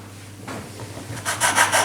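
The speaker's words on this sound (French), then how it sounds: "je vais découper des petits ronds" A small round cutter pressing through soft sandwich bread slices, flattened two or four at a time, gives close, soft rubbing and scraping sounds that grow louder over the last second, with no talking.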